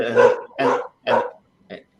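A dog barks three times in quick succession, loud and close, followed after a pause by a shorter, softer yip; no talking over it.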